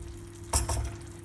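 Water hits a hot pan of bulgur pilaf with a short, sharp sizzling burst that quickly fades to a low hiss.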